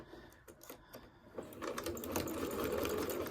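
A sewing machine runs steadily, back-stitching over elastic while sewing a fabric door latch cover; the close, continuous mechanical whir picks up after a brief pause and keeps going.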